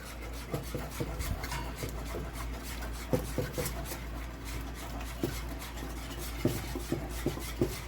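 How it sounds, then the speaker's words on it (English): A whisk scrapes and taps against a pot while an egg and milk mixture is stirred over medium heat for a banana pudding, giving a soft, continuous rubbing sound with occasional light clinks. "I'm going to keep whisking this in"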